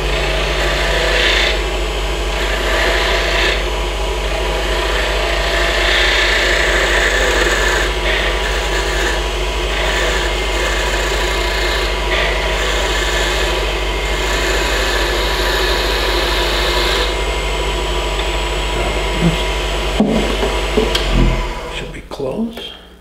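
Steady abrasive rubbing as a bocote wood hairpin spins on a lathe under sandpaper, continuous and close for about twenty seconds before fading out with a few knocks at the end.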